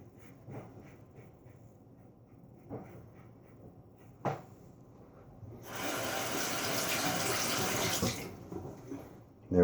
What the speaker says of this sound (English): A little quick rinse.